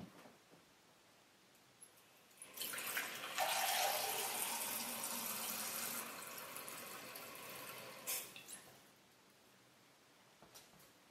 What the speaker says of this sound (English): you've just seen me fill up this normal measuring jug with some cold water.